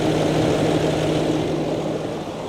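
Range Rover L322 3.6 TDV8 diesel engine idling nearby with a steady, low, droning rumble that holds at even loudness for the whole stretch, no voices.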